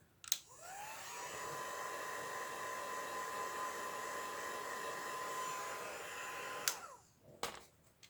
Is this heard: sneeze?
no